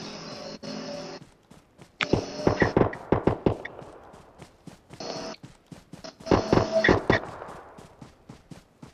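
Gunfire in the battle-royale shooter PUBG Mobile, bursts of sharp rapid shots coming in clusters with pauses between them, fairly close and loud.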